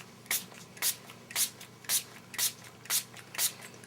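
A spray bottle of homemade glimmer mist spritzes onto scrapbook paper in eight evenly spaced, sharp hissing bursts, each short and close, with quiet gaps between them and no talking.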